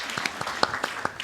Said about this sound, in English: can you join me to applaud him once again for a good presentation